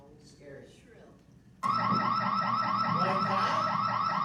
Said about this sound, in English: Have you ever seen when somebody opens a door and their alarm goes off?